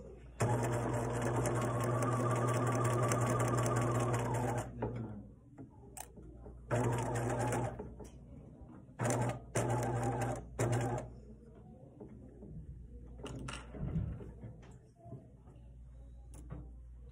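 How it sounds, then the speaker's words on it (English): A sewing machine stitches fabric with a quick back tack, whirring steadily up close for several seconds, then running in shorter bursts broken by brief pauses and soft handling noises. "I'm just going to do one little back tack and sew up to your pins."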